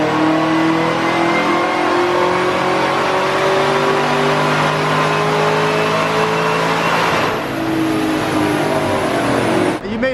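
A 2017 Camaro ZL1 supercharged V8 revs hard on a dyno, a loud sustained roar with rising and falling pitch over about ten seconds, cutting off sharply at the end.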